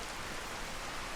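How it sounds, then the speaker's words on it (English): Heavy rain in the video game Skyrim makes a steady, dense hiss of falling water, faint and even throughout with no distinct drops standing out, and no voices. "And it is raining like crazy."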